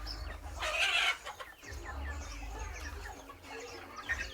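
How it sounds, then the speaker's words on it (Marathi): Free-range desi chickens, roosters and hens about forty days old on a poultry farm, clucking and calling over one another in a busy flock with a louder burst early on, no talk. "अगदी कोंबडा कोंबडी कसे पक्षी आहेत आपले"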